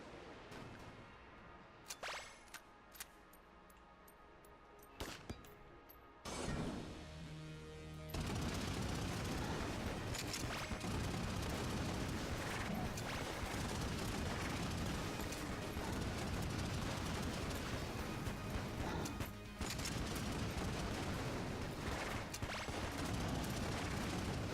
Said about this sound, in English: And that is the Yari launcher, everybody.